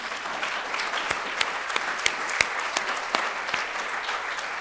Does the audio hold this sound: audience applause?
yes